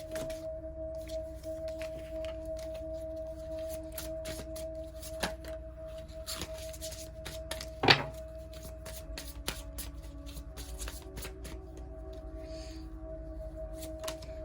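Handmade tarot cards are shuffled up close in a soft, steady, continuous riffling rustle, with one brief sharper snap partway through, over a faint constant background hum.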